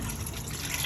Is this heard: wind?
no